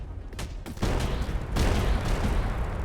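Rapid gunfire in a homemade video game as bullets are shot at a roaming enemy tank, loud dense bursts of synthetic shots running continuously with brief gaps between volleys.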